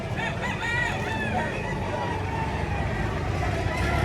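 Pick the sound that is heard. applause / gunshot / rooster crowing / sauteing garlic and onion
rooster crowing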